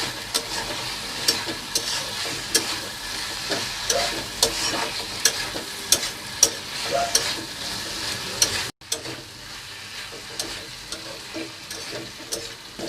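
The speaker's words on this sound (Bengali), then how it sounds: "এই সমস্ত সসগুলোকে চিকেনের সাথে ভালোভাবে মিশিয়ে নিতে হবে।" Sauces are stirred into chicken for a tandoori chicken roll, with repeated scraping and stirring clicks over a soft sizzle-like hiss, steady and close, before a brief cut to quieter mixing.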